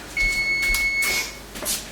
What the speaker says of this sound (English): Timer's about to go off on the pecans, so I'm going to check on those.